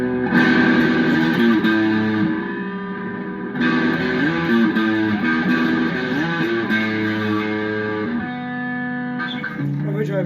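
An electric guitar plays through a Firefly FFST amp on its overdrive channel with settings near maximum, sustained distorted chords and bends ringing loud and thick with a fuzzy, muddy edge, a short pause, then more chords.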